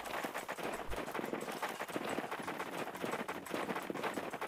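Hoofbeats of a horse in the riding game Julia's Abenteuer im Reiterland, a steady clip-clop trotting rhythm under game music, fairly close and even in loudness.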